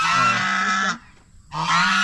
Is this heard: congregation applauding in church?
no